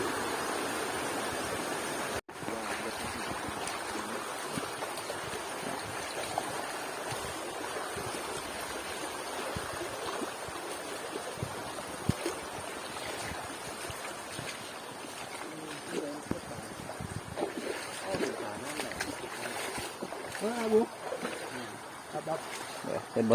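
Water flows steadily in a forest stream at a fishing spot, a continuous broad rushing wash heard close throughout, with people talking over it.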